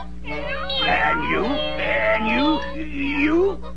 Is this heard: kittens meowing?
yes